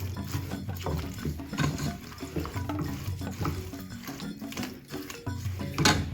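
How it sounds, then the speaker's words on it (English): Soya chunks being stirred in a pan with about half a cup of their soaking liquid, giving a continuous wet scraping and churning with a light sizzle, close and even throughout. "So about 1/2 cup of the liquid you can put in there and stir that again."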